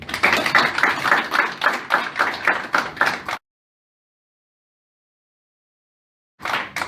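An audience applauds a lawyer at a mock oral commercial court hearing, a dense burst of clapping lasting a few seconds before cutting to silence, then resuming briefly at the end.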